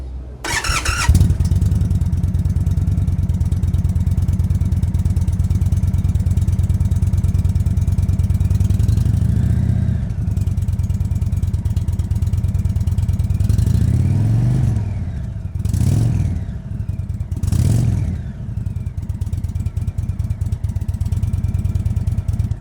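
An Indian Chief motorcycle on its stock exhaust starts with a crank and catch, idles loudly with a deep rumble, then takes several sharp throttle revs in the latter half, each rising and falling back to idle.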